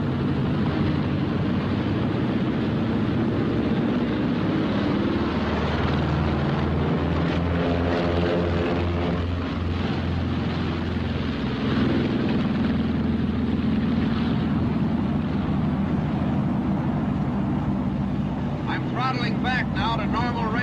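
B-26 Marauder bomber's twin radial engines roaring steadily at takeoff power, a loud continuous propeller drone with shifting pulsing tones throughout.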